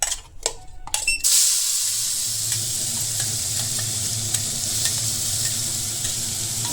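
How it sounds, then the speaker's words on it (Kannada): Red masala paste frying in oil for a Katla fish curry, stirred in the pan: a loud, steady sizzle, after a second of scraping and clattering at the start, with no voices. "ಒಂದು ಪೇಸ್ಟ್ ಪಾಡ್ದು ಲಾಯ್ಕ್ ಫ್ರೈ ಮಲ್ಪೊಡು"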